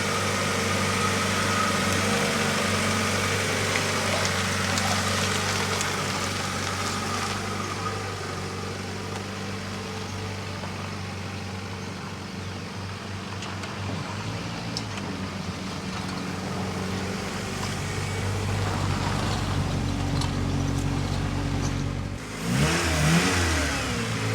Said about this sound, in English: it seems to be running better